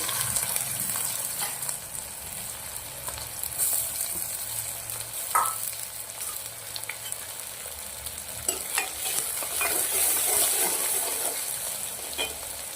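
Chopped onion and ginger with dry spices fry and sizzle in a pan, a steady close crackle broken by occasional spoon scrapes and clinks, with no talking.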